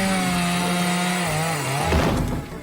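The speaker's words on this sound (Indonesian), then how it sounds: "Squidward malah menjebol pintu masuk menggunakan gergaji mesin." Cartoon chainsaw cutting through a door in SpongeBob, a loud buzzing engine whine that drops in pitch as the blade bites, ending in a rough grinding crunch of wood.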